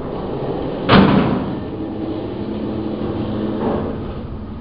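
A Schindler traction freight elevator door in a quiet upper-floor car moves with a sharp thud near the start, a low rumble trailing off, and a fainter second thump later against a steady background hum.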